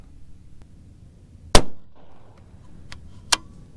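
Two sharp 6 Creedmoor rifle shots from a shooting bench, a loud near crack at about 1.5 seconds with a short decaying tail and a second fainter report near the end, over quiet outdoor background.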